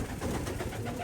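Racing stock pigeons kept for breeding coo in a loft, a steady low murmuring chorus of several birds close by, continuous throughout without any talking.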